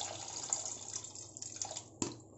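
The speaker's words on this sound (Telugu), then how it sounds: "నైట్ నానబెట్టుకున్న పప్పులోని వాటర్ని ఇలా మార్నింగ్ వడకట్టుకోవాలి" Water strained off overnight-soaked lentils for pesarattu batter, a soft continuous trickle and splash with brief drips and one sharper splash near the end.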